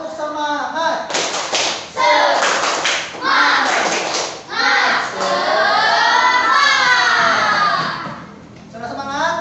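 A classroom of children claps a rhythmic spirit clap in unison, loud and close, mixed with shouting young voices chanting along throughout.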